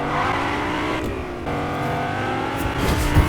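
A Lamborghini in the Fortnite video game revs its engine, a steady close-up roar with rising pitch and a brief surge near the end, with no talking.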